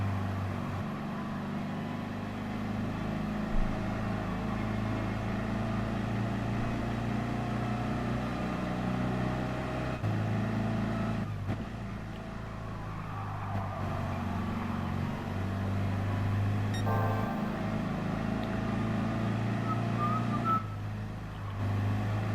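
A Volkswagen Beetle in Gran Turismo Sport drones at high speed, a steady low engine hum held almost unbroken, with brief dips and a few faint electronic chirps near the end.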